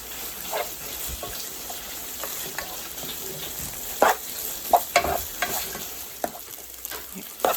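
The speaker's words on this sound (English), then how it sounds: "So you're just going to kind of cook this up for a little bit to kind of get that raw tomato taste out of that tomato paste." Tomato paste cooks in a pan for old-fashioned American goulash, a continuous soft sizzle broken by scattered scrapes and taps of a spoon being stirred through it, close with no talking.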